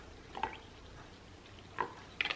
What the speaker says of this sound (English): like 2 splashes of milk.